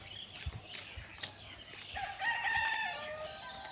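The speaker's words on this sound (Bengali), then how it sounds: "এই যে কত মুরগি" Rooster crowing mid-clip among clucking chickens let out of their coop in the morning at a rural home, with bird calls in the background; no speech.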